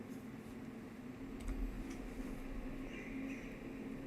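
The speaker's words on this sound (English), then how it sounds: "That's just a train." Train passing through woodland, heard as a steady low rumble and hum that holds throughout, with faint higher squeals and clatter on top, moderately distant.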